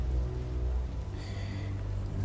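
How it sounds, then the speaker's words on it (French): Steady rain falling at night in the video game Marvel's Midnight Suns, a continuous soft wash of drops under low background tones, with no voices. "On rentre la nuit sous la pluie."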